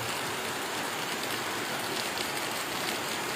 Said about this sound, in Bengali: আজ প্রচণ্ড বৃষ্টি হচ্ছে সকাল থেকে।